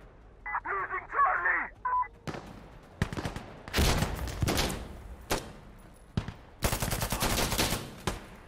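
Short tap-fired bursts of gunfire in Insurgency Sandstorm, loud sharp cracks in several clusters after an opening of electronic beeps, with a voice speaking between shots.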